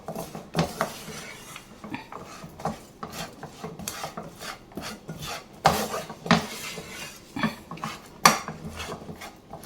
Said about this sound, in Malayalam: നിലക്കടല ശർക്കരയിലേക്ക് ഇട്ടിട്ട് നല്ലതുപോലെ മിക്സ് ചെയ്തിട്ടുണ്ട്